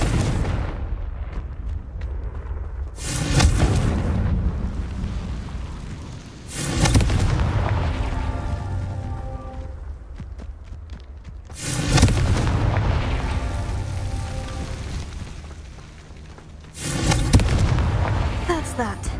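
Confringo fire spell blasting in Hogwarts Legacy, a video game, heard as four loud booming explosions spaced several seconds apart, each with a rumbling tail and ringing decay beneath steady game ambience.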